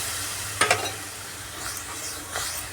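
Milk poured into a frying almond halwa mixture, a brief splash then a continuous hissing sizzle with soft stirring, close and steady.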